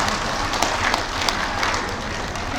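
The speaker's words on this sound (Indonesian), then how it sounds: "Tepuk tangan untuk UT." A crowd claps for UT (Universitas Terbuka) at a university event, a dense, steady wash of applause at moderate level across the whole moment, with no voices over it.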